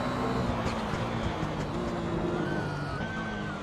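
Porsche 911 GT1 engine in the racing game Assetto Corsa, a steady droning engine note with shifting pitch lines, fairly faint and continuous without talking.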